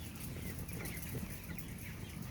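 Broiler chickens clucking in a poultry house, a continuous murmur of overlapping soft clucks and calls at moderate distance, fairly quiet with no talking.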